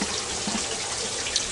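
Hot water poured into a quail egg incubator gives a steady, close splashing trickle that runs throughout, with faint drips and gurgles and no talking.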